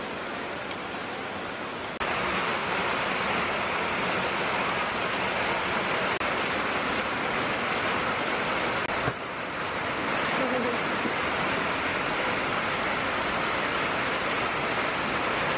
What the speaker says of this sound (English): by evening we had rain pouring down